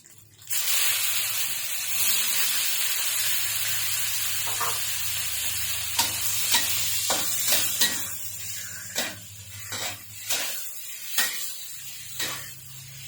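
Spicy catfish stir-frying in a pan for a single serving, a steady loud sizzle and hiss running throughout, with repeated clinks and scrapes of a utensil against the pan in the second half.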